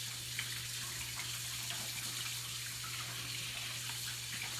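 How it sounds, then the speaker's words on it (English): Running tap water pours steadily into a kitchen sink as hands are washed while cooking seafood cornbread dressing, a constant soft hiss heard faintly throughout. "and wash my hands."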